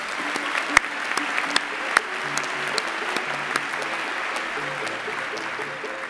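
A hall full of people claps for graduates at a postgraduate ceremony, an even roomy wash of applause with a few sharper nearby claps standing out, holding steady to the end.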